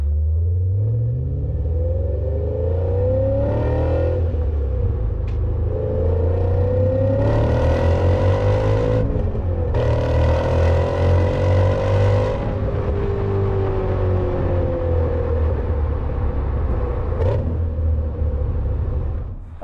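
BMW E39 M5 exhaust rumbling loud and close, with a steady deep idle broken by several rising revs and quick throttle blips.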